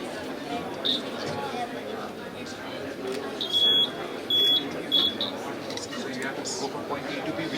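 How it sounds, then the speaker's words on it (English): A steady-hand wire game at a science exhibition sounds its buzzer in a few short, sharp bursts over a busy hall full of chatter and nearby talking voices. "Otherwise, it gives a buzzing sound."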